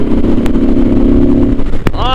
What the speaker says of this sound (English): Yeah, the exhaust sounds so badass.